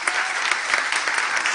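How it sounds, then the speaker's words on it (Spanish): Audience applause at a Spanish-language political forum on women in the political agenda, a steady dense wash of many hands clapping, loud and even throughout without a break. "un fuerte aplauso para todos ustedes"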